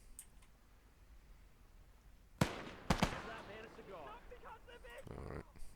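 Grenade explosions in Call to Arms: Gates of Hell, with a sharp blast followed by two quick bangs close together, then a voice talking over the fading battle noise.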